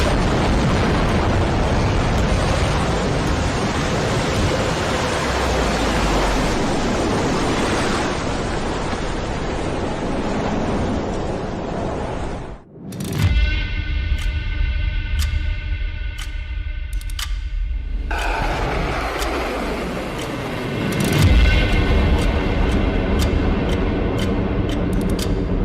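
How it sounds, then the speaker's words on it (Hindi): A massive nuclear blast roars as a long, loud rumbling wall of noise, breaks off abruptly, then returns with further booming surges and a sharp burst near the end. "न्यूक्लियर ब्लास्ट का यह रिप्रेजेंटेटिव वीडियो देख लीजिए।"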